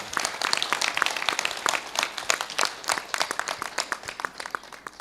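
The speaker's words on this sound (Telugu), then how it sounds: "give a big clap to him" Audience applause at a Pyramid Seva Dal meditation gathering, a dense, steady clapping from a large crowd that continues for several seconds at moderate loudness.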